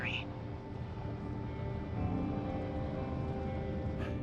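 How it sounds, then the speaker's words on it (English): A helicopter arrives in the video game Firewatch, a low rumbling rotor drone heard steadily throughout at moderate distance, with voices briefly talking over it. "There's the helicopter."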